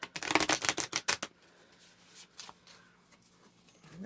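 A deck of tarot cards is shuffled quickly in a burst of crisp, rapid riffling flutters lasting about a second, followed by near silence with a few faint soft card taps.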